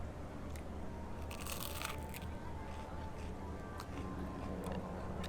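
Crisp crunching bites into battered fried fish, a rapid burst of brittle crackles close to the mouth over a steady murmur of background chatter.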